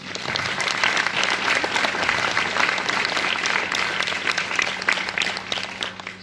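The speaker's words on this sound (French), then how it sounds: "et que je vous demande d'applaudir." Sustained applause from an audience at a French public campaign meeting, a steady dense clatter of many hands lasting throughout without talk.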